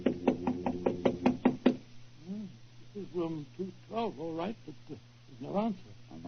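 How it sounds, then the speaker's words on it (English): A series of sharp, evenly spaced knocks on the door of room 212 at the Carlton Hotel, followed by voices talking. "Knock again."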